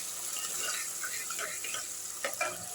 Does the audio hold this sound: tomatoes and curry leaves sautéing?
yes